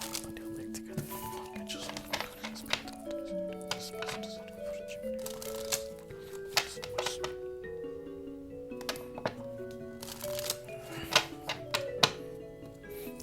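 Oracle cards are shuffled in soft, rapid riffling bursts, fairly quiet and partly buried under steady melodic background music.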